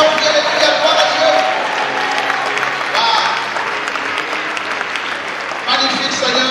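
A congregation at a church service in Côte d'Ivoire applauds loudly and steadily, a dense wash of clapping that carries on throughout with voices mixed in.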